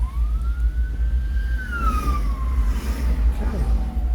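Police car siren wailing in a long rising and falling sweep as it passes, heard fairly faintly from outdoors over a loud low rumble, with no talk over it.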